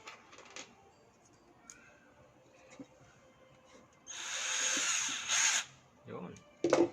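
A Vanderbilt cordless drill drives a screw in a loud whirring burst of about two seconds, then a shorter reverse spin, following quiet stretches with background noise.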